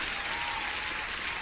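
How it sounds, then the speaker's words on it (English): Steady, dense applause washes through without a break, an even hiss of many hands clapping together during a live futures day-trading stream. "Let me give you an applause, everyone."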